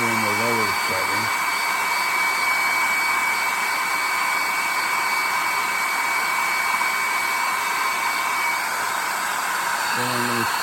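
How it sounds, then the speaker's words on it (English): A hair dryer on a lower setting blows steadily and loudly to dry paint on a chickadee painting, a constant close whirring drone with brief faint voice at the start and end. "So I'm going to come in and dry this. Let me put it in the lower setting."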